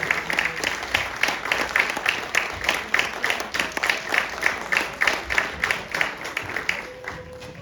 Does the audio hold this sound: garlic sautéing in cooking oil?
no